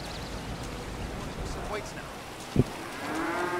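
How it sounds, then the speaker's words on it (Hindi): Cows and buffaloes mooing inside a barn in a modded GTA 5 game during rain, low drawn-out calls over a steady patter of rainfall with a short thump midway. "अंदर गाय भैंसों सबकी आवाज़ें आ रही हैं।"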